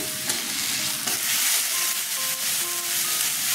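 Ground spices of chilli, coriander and cumin with salt sizzle and fry in oil for a Bengali fish curry, a steady close hiss with scraping stirring strokes and faint clinks, no voices.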